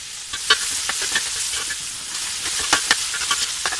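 Vegetables for a spring roll filling stir-frying over high heat, a steady bright sizzle broken by repeated scraping clicks of stirring, close and continuous with no talk.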